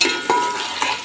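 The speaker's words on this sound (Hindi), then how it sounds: "1 कप ऑयल लिया था, उसके अंदर हम अपनी प्याज फ्राई करके" Onions fry in about a cup of hot oil, producing a close, steady sizzling hiss with a couple of soft stirring bumps.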